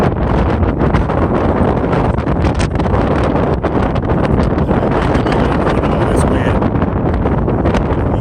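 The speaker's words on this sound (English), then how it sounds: "This gotta be like 40, 50 mile an hour wind right here." Strong wind of roughly 40-50 mph blows outdoors. It buffets the microphone with a loud, continuous roar that fills the whole stretch.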